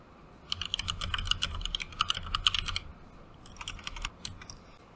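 Fast, close typing on a computer keyboard in writing software, with crisp key clicks in quick uneven bursts, a brief pause, then another flurry.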